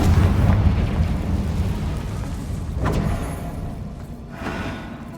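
A Confringo fire spell blasts in Hogwarts Legacy, a loud, sustained roaring rumble with a sharp burst near the middle and another fainter flare later, fading gradually.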